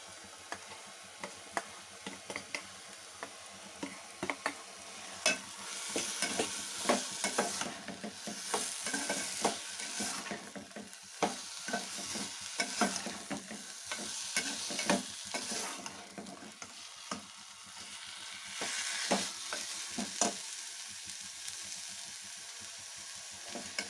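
Mashed potato and peas fried and stirred in a pan for masala puri, a soft continuous sizzle broken by repeated scraping strokes of a spoon, close and fairly quiet, with no talking.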